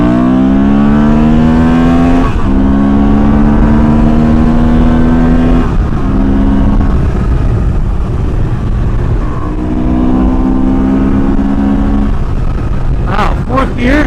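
A Honda Transalp 750 motorcycle accelerating hard toward top speed, its engine loud and close with rising tones that break at each gear change, under heavy wind rush.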